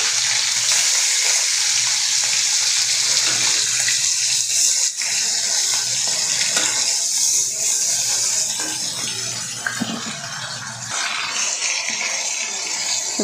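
Fish sizzles in hot oil in a home kitchen, a loud, steady crackling hiss that runs the whole time with occasional spatters and faint clinks, and no talking.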